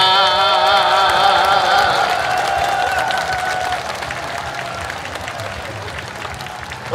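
Sustained crowd applause at a Korean pumba performer festival, dense steady clapping that slowly thins out, with a sung or held voice in the first seconds.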